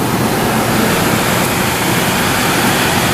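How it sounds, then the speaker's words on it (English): A waste oil furnace fan in a shop blows hot air with no ducting attached, giving a loud, steady broadband whoosh that stays even from start to finish. "Now the fan's kicked on, and it's actually recirculating hot air."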